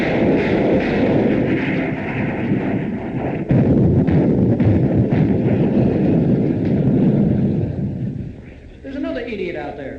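A man vocally imitates a 40 millimeter anti-aircraft cannon mounted on floats, producing loud, continuous rumbling bursts of booming noise that run steadily for most of the stretch before tapering off near the end.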